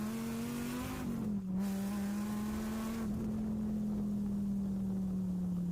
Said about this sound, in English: Very characteristic V10 sound.